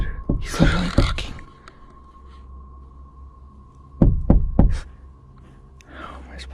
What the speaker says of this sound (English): He's literally knocking.